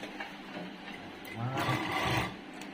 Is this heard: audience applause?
no